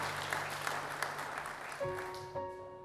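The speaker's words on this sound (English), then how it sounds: "the way Ria and her family applauded for me" Family clapping and cheering for a guitar player just after the last note, steady close applause with a few sharper claps, fading as a faint pitched tone enters near the end.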